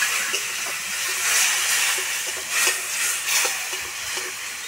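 Water poured into a hot pan of frying mustard masala for a Bengali tilapia curry, bursting into a loud, close, sustained hiss and sizzle that swells in waves, no talking.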